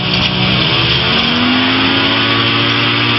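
A light experimental aircraft's engine holds a loud, steady drone with a slowly rising tone as it powers up to take off again right after touchdown, close and continuous.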